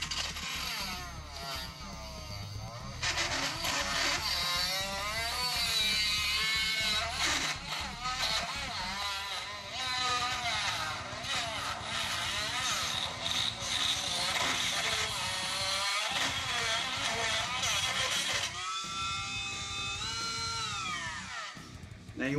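A rotary tool with a carbide burr grinding plastic out of a shotgun casing for guitar parts: a loud, continuous high whine that rises and falls in pitch as the load changes, with brief dips and a few short pauses.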